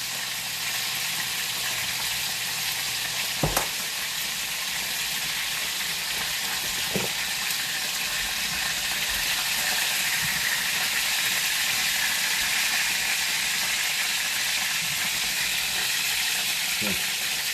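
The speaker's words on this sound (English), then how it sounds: "Okay, we're boiling now." A steady, loud sizzling hiss of liquid boiling hard in a pan on high heat, with a few sharp clicks and clinks scattered throughout.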